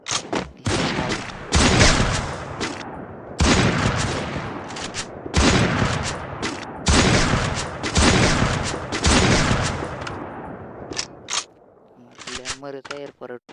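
Gunfire in a shooting video game featuring an M82B sniper rifle: loud repeated bursts of shots in clusters, with a voice speaking briefly near the end.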